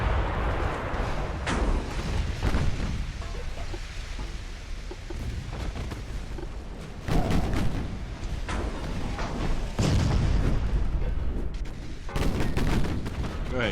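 Shell impacts on a warship in the naval game Ultimate Admiral: Dreadnoughts, heavy booming hits and rumbling blasts recurring over a constant roar of sea and battle noise, loudest after the midpoint.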